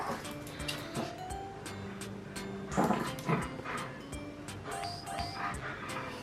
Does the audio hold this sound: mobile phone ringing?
no